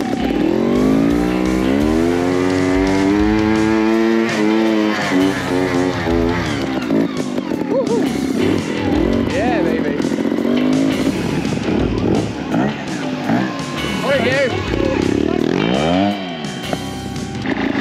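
Trials motorcycle climbing a big, steep, muddy hill at a Boxing Day trial, its engine loud and close, revving and labouring in rising and falling surges throughout.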